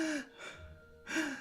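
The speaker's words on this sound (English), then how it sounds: "a gasp is when you take in air" Sharp gasps of pain, two breathy intakes of air separated by a quieter breath, close and intimate.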